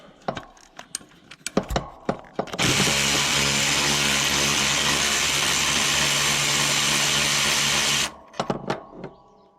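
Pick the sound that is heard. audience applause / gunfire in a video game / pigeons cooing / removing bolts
removing bolts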